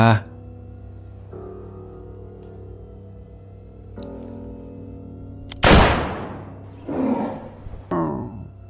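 Gunshot sound effect in a Thai horror audio story about a hunter and a were-tiger, a single sharp loud blast followed by a couple of fainter rumbling echoes, heard over a low droning background score.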